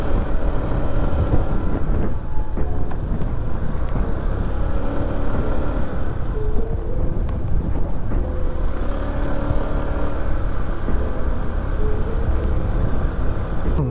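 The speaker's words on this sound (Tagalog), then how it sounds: "Grabe, lakas ng hangin." Strong wind roars constantly across the microphone at the Malabon mega dike, a dense, buffeting rumble with a faint engine-like hum underneath and no voices.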